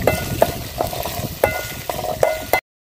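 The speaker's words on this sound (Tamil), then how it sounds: "தொளிச்சு வச்சுருக்கிற சின்ன வெங்காயத்தை சேர்த்துக்கலாங்க. பூண்டு சேர்த்திக்கலாங்க. இது எல்லாத்தையும் நல்லா வதக்கி எடுத்துக்கலாங்க." Small onions and garlic stir-fry in a hot pan while a spoon scrapes and stirs in repeated sharp strokes over a soft, steady sizzle.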